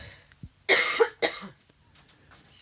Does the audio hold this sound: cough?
yes